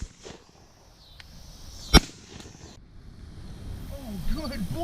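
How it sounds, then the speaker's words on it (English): One sharp shotgun shot rings out during an outdoor dove hunt, a single loud crack standing alone among quiet wind and faint background noise, with a person speaking softly near the end. "Basically just shooting a single shot right now."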